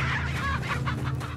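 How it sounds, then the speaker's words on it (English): Chickens cluck in the Resident Evil 4 video game, several quick overlapping clucks and squawks that come close and fairly loud over a low steady game drone. "Move, chickens!"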